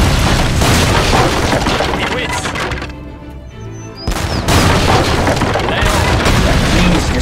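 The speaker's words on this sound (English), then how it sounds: "that first we'll blow these walls" Walls blasted with explosives in Age of Empires III thunder in heavy, loud booms with crackling debris, a dense barrage that drops briefly to a lull before erupting again into repeated blasts.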